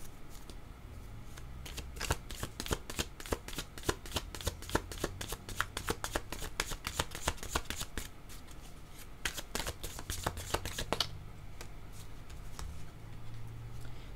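A deck of oracle cards being shuffled, a steady run of crisp riffling flicks lasting about eleven seconds, close and clear, ending in quieter handling with a low hum underneath.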